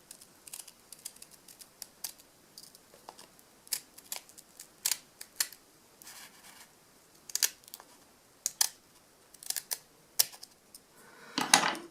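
Scissors snip paper for a Scandinavian Christmas ornament, a julekurv, with irregular crisp clicks and short cuts spread over the stretch, some in quick pairs, ending in a denser burst of snipping.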